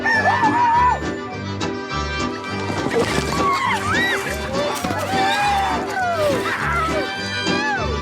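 Chickens cluck and a rooster crows amid a lively crowd at a Cajun Mardi Gras chicken run, with music and voices mixing around the birds.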